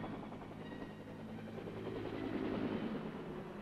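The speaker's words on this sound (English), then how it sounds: "The Huey takes off like an angry hornet." Huey helicopter in flight during the Vietnam War gives a steady, dense rotor and engine roar, continuous and moderately distant throughout, with no voices.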